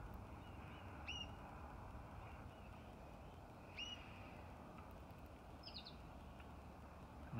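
A few brief, thin bird calls sound faintly and sparsely outdoors over a soft, steady background rush.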